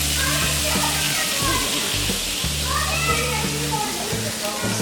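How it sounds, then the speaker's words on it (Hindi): Water is sprinkled onto a hot dosa pan on a gas stove, setting off a bright, crackling sizzle that hisses continuously beneath a person talking nearby. "इसमें हम थोड़ा पानी छिड़केंगे"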